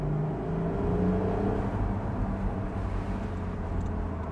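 Engine of the new Porsche 911 heard from inside while driving, a low steady rumble with a brief rising rev early on, then settling into an even drone.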